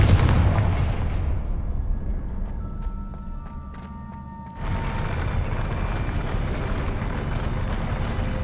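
The Confringo blasting spell in the Hogwarts Legacy video game detonates in a loud, broad explosion that decays into a rumbling tail, then a second heavy blast surges and sustains.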